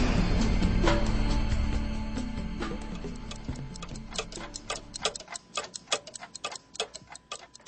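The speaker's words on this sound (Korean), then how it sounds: "가게 안에 있던 20개가량의 시계가 제각각 소리를 냈다" About twenty clocks ticking at once in a shop, a dense overlapping clatter of sharp ticks at different rhythms, some heavy, some busy, emerging clearly as a low rumble fades away.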